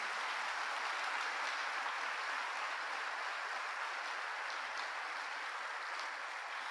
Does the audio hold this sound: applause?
yes